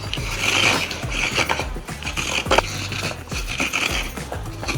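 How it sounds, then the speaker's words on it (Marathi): A coconut grating machine shreds a halved coconut in a home kitchen, giving a continuous rasping, ratcheting scrape with rhythmic mechanical grinding pulses, close and fairly loud, with no voices. "माझ्याकडे खोबरं खवायचं मशीन आहे. मी आता छान खवून घेते त्याला नारळाला."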